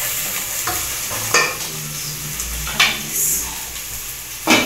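Garlic and ginger paste sizzles in a pan while being stirred, with a spoon scraping and tapping the pan several times over a steady frying hiss, close and clear.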